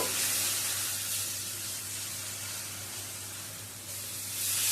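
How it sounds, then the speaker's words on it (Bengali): Onion paste frying in oil for a pointed gourd recipe: a continuous, fairly close sizzle and hiss that dips slightly in the middle and swells again at the end. "পেঁয়াজের পেস্টটা একটু ভাজা ভাজা করে নেব।"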